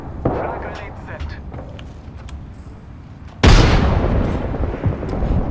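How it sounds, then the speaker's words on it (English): A frag grenade goes off in an Apex Legends match with a single loud, sudden boom partway through, followed by a long rumbling decay, with game sounds and a voice talking around it. "Frag grenade set."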